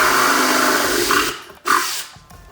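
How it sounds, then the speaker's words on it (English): A power drill whirs steadily while drilling holes in a motorcycle windscreen, then cuts out and revs again in a short burst, loud and close. "Now I'm gonna drill the two front side holes."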